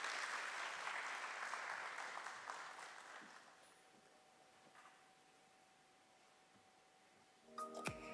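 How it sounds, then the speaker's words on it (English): Audience applause at the listing ceremony of Omnitech Engineering Limited at BSE, a broad wash of clapping that gradually fades to a thin scatter, followed by a steady tone and a brief louder burst of clatter at the end. "Let's have a huge round of applause for him"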